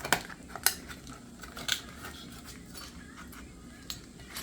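A very sharp kitchen knife slices through food on a board, giving a few crisp clicks and taps near the start with one more later, close and fairly quiet against a soft background hiss.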